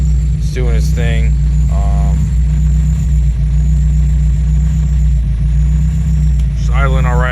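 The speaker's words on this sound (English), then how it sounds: "Just idling alright." A boosted Acura RSX with 2200cc injectors idles steadily while still cold, a loud, even engine drone running throughout, with someone briefly speaking over it.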